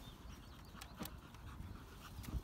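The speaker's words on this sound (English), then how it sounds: "oh, look at that cute dog." A dog pants softly and steadily nearby, with a faint whimper mixed into the quiet breathing.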